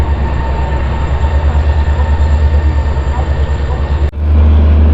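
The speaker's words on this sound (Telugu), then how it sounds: "మన బండి అయితే వచ్చేసింది ప్లాట్ఫామ్ మీదకి." An express train, the Janmabhoomi Superfast Express, rumbles steadily at a railway platform with a loud low engine and wheel drone, then a sudden shift near the end to a heavier, deeper roar.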